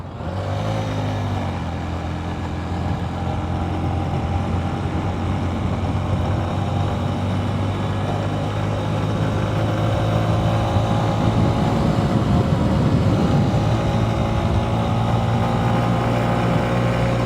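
A Honda CB125F motorcycle cruises along a small road, its small engine humming steadily and close, with a slight rise in revs and wind noise partway through and no speech.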